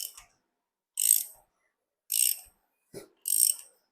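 A hand ratchet turns the crankshaft of an LS engine after a cam install, giving four short, crisp clicking bursts with brief silences between them, close and fairly quiet.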